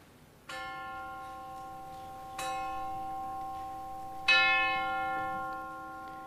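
A church clock bell in Seville strikes three times, evenly spaced, each clear metallic toll ringing out and decaying slowly in a quiet setting.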